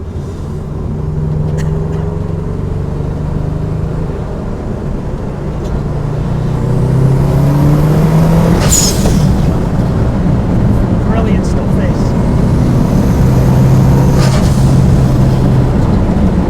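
A turbocharged engine in a four-wheel-drive Peugeot 206 with a Subaru drivetrain drones and revs under a loud cabin, rising in pitch as it accelerates, with a short hissing burst midway while someone speaks briefly.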